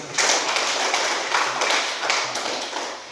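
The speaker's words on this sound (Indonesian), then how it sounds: "Ya, tepuk tangan dulu titik." A classroom of children claps hands together in rhythmic unison, a dense, loud burst of overlapping slaps pulsing in a steady beat, with no talking over it.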